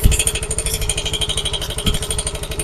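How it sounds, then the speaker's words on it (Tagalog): Yamaha Mio i 125 scooter with an abnormal internal engine noise, idling with a rapid, rough mechanical clatter and knocking that pulses evenly throughout, loud and close with no talking. "Ganito nakaingay yung motor niya."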